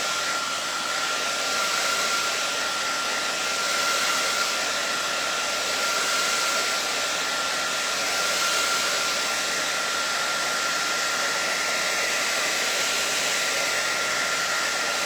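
A hair dryer blows steadily and loudly, a constant whooshing roar with a faint high whine running through it from start to finish.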